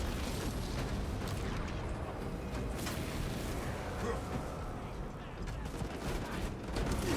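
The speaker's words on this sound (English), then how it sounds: "they all came out guns blasting with their auto guns" Heretics' autoguns firing in Space Marine 2 make a constant roar of overlapping gunfire and blasts, steady and moderately quiet for the whole stretch, with talk faintly mixed in.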